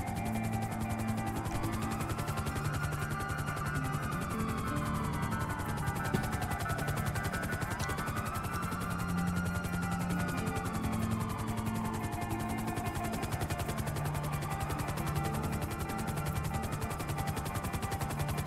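An aircraft engine drones steadily in a GTA roleplay game, a constant loud hum with slowly rising and falling pitch sweeps running unbroken throughout, with no talk over it.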